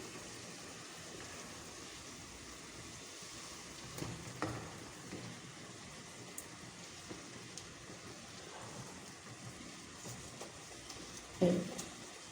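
Okra added to a frying pan of tomato keema, a steady low sizzle and bubbling throughout with occasional stirring scrapes and a brief louder clatter near the end.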